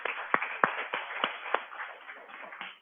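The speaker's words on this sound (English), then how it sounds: "So give yourselves a round of applause." A small audience gives a brief, scattered round of applause, with a handful of distinct sharp claps standing out over a soft wash of clapping that fades toward the end.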